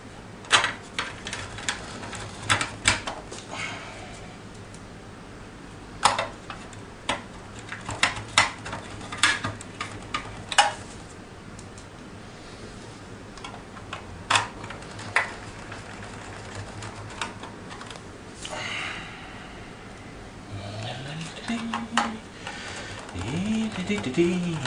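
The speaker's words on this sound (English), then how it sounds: "we can screw the shield in" Small screws are driven to fasten the metal shield back inside a CTX LCD monitor, a long run of irregular close ticks, clicks and ratcheting clatter, with a short whirring tone near the end.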